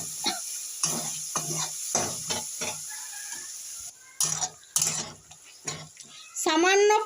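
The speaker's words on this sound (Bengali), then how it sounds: "ভালো করে নেড়ে নেড়ে কষিয়ে নেব।" Goat fat sizzles in a pan while it is stirred for a cabbage curry, with repeated scraping strokes over a soft frying hiss, and a person talks between the strokes.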